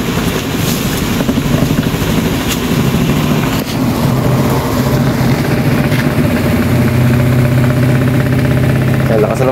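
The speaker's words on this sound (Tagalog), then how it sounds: "Ayan, lakas na ng motor." A clothes dryer fitted with a new motor and loaded with clothes runs with a loud, steady hum and rumble from start to finish.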